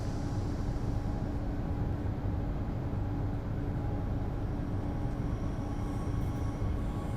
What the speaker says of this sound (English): let's release the brakes and let's get the train moving